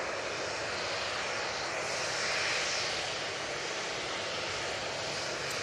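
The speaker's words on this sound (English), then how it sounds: "It's off to Faro, 737-800." A Boeing 737-800 airliner at Manchester Airport, its jet engines giving a steady, loud, broadband roar that swells slightly midway and holds without pause, with no voices.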